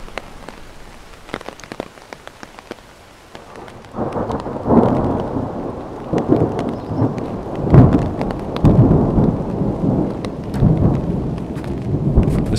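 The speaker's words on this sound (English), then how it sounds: "Now it's hailing." Hail and rain pelt down during a thunderstorm on a brushy forest trail, starting as light scattered taps, then swelling into a dense steady roar with deep rumbles of thunder rolling underneath.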